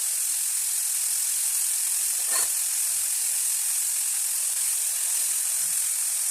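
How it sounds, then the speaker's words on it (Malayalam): Two small finely chopped onions sauté in oil over a medium flame, giving a steady, even sizzling hiss throughout, with one brief stir-like scrape partway through and no talking. "ഇതിനൊന്ന് മീഡിയം ഫ്ലെയിമിൽ വെച്ച് വഴറ്റിയെടുക്കാം."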